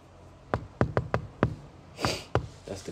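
Punchy knock drum hits in a hip-hop beat, a sparse run of sharp, loud thuds spaced about a quarter second apart, with a brighter noisy burst near the end.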